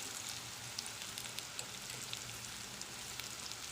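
Chilli powder hits a frying onion-tomato masala for Punjabi chole and sizzles in a faint, steady crackle, with small pops scattered through the hiss for several seconds.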